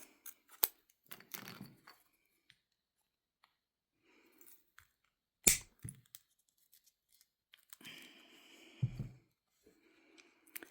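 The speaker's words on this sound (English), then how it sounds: "So I'm going to take just a scrap of Peltex." Sharp scissor snips trim a small scrap of Peltex stiffener for a leather keyfob, a few quiet isolated cuts separated by pauses, with faint handling rustles in a silent room.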